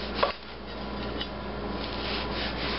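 A knife slices through a loaf of bread, a close steady rasping rub lasting a few seconds after a short sharp scrape at the start.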